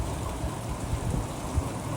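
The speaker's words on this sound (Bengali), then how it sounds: "যে বৃষ্টিগুলো দেখতেছেন এগুলো আসলে রিয়েল বৃষ্টি না, এগুলো হচ্ছে শুটিংয়ের জন্য বানানো হয়েছে।" Artificial rain from a film-shoot rig falls steadily, a soft continuous hiss of spray and drops hitting the ground, moderately close with a few heavier splashes, no voices.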